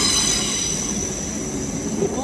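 A GWR Class 800 train rolls past at London Paddington station, a steady loud rumble with faint wheel squeal and high metallic tones, continuous and close.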